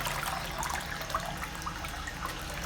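A DC50E micro brushless DC water pump runs while placed in water, making a steady churning, trickling splash with a faint motor hum underneath, close and continuous.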